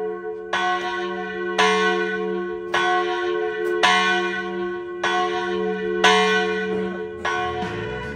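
Church bells ring in a French village, a series of bright, resonant strikes at a slow, regular pace with long sustained overtones that overlap and hang in the air, heard alone without voices.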